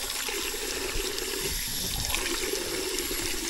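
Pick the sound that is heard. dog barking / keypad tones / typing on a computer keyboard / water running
water running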